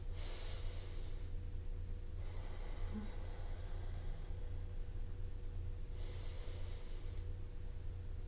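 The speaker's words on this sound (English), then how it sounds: "just take a few of those balanced breaths in and out" Slow, deep breaths in and out during a yoga practice for anxiety and stress, with soft, close airy rushes over a steady low background hum.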